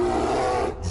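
A bear roars in the Jackbox Party Pack video game, a sustained, loud, rasping growl that holds steady for about a second before fading.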